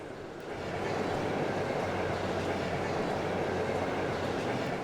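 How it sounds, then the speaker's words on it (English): Steady rumbling roll of a train travelling on rails in the video game Trails of Cold Steel, a continuous low drone with a faint rhythmic hum that swells in over the first second and then holds at an even level. "So we should be back on the train."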